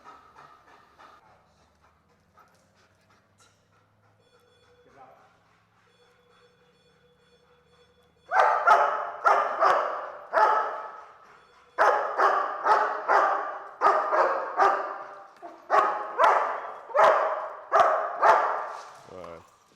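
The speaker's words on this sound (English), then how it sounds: "He pauses for a second, tap, he starts barking." A dog in e-collar training stays quiet at first, then breaks into loud, repeated barking in rapid bursts with short pauses between volleys, after faint background voices.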